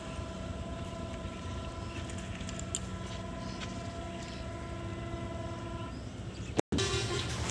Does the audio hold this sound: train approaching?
yes